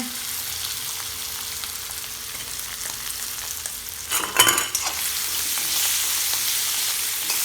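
Potatoes tempered in hot oil for a Gujarati dry potato dish, frying with a continuous crackling sizzle and a brief clatter of stirring midway, close and steady without any talk.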